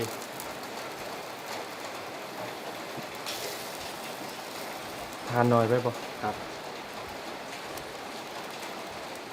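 Steady rain falls with a constant hiss through the whole stretch, and a voice speaks briefly over it partway through.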